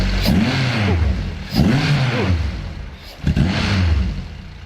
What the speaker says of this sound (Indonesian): Saya ini penasaran kalau mesin ini bisa digas nggak sih?